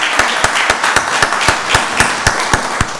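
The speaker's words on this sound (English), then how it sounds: "Give her a round of applause." Audience at a Rockdale County Board of Commissioners meeting applauding a newly welcomed deputy director, steady clapping with sharp regular claps standing out over a dense wash of hands, moderately loud and without talk.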